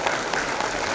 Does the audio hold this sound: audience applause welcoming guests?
yes